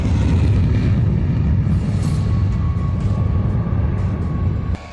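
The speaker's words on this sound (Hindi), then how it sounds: "एक एक कर तीनों राफाल फाइटर जेट आसमान की ऊंचाइयों को छूने लगे।" Three Dassault Rafale fighter jets taking off from France, a loud, steady, broadband jet roar with no speech, holding strong throughout and easing slightly just before the end.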